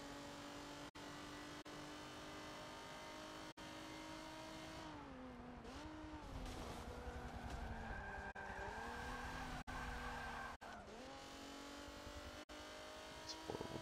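A D-Class race car in Forza Motorsport 7 cornering at Road Atlanta, with a steady, loud engine drone whose pitch dips and rises through gear changes and sustained tire squeal through the corner.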